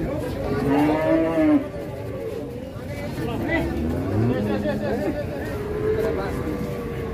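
A sick, emaciated cow at a livestock sale lets out loud, drawn-out moos, one strong call near the start followed by lower lowing, while people chatter in the background.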